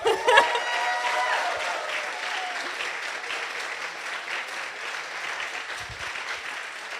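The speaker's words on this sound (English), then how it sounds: "Once again, big applause for her." An audience applauds at a live business plan presentation final, a dense steady clapping that swells at the start then holds evenly throughout, with a brief cheer near the opening.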